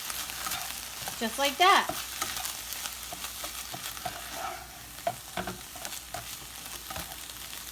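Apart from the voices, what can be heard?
stirring egg roll filling frying in a pan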